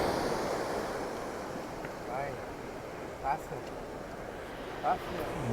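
Atlantic Ocean waves break and wash continuously on the shore at the edge of Ericeira, Portugal, as a steady surf roar with wind buffeting the microphone.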